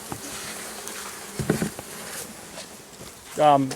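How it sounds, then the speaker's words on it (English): Honey bees buzz softly and steadily in the background during a cut-out of beehives from a shed wall, with a few brief rustles and a louder, closer buzz rising near the end. "All those bees."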